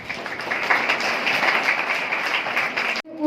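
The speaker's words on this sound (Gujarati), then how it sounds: "તાળીઓના ગડગડાટ ચાલુ" An audience applauds at a high school admission ceremony, a steady patter of many hands clapping for about three seconds, moderately close, then cutting off abruptly.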